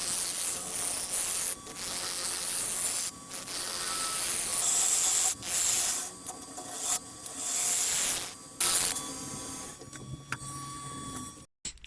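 A 12mm carbide lathe tool hollows the inside of a spinning maple bowl, a loud continuous rasping scrape broken by several short pauses as the cut lifts off, then stops near the end.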